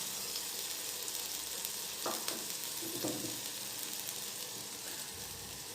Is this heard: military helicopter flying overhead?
no